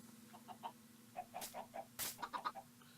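Chickens in the video game Minecraft cluck in a string of short, soft, pitched calls over a low steady hum, with one brief brighter burst in the middle.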